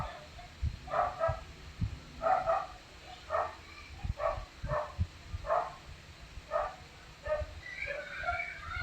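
A dog barks in short separate bursts, about a dozen yaps spread irregularly, moderately near but fairly quiet, in a house where children are playing.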